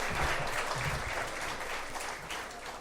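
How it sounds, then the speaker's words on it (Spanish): An audience gives sustained, even applause for about three seconds, a dense wash of clapping heard at moderate distance and fairly low level. "denle un aplauso por favor al otro Mauri."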